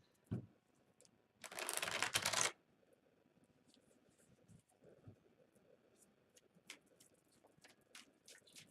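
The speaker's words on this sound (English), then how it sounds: "Let me make sure these are shuffled though." A deck of tarot cards being shuffled makes a quick riffling burst of about a second, followed by soft, scattered card taps and handling noises at close range.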